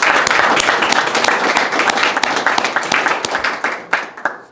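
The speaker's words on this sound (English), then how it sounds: "So if you just please give a round of applause for all this." Audience applause at an awards ceremony for a history of medicine society's publications, a dense burst of clapping from a room of people that fades out toward the end.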